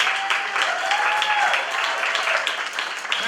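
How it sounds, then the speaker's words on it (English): An audience applauds at a youth group's tenth anniversary honoring event, a steady wash of many hands clapping close by, with a voice briefly audible under the applause. "Let's clap that up."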